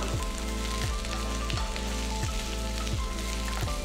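Green chillies and onions sautéing in a pan for Madurai thanni chutney, a steady close sizzle running throughout with soft periodic scraping from stirring, no voices.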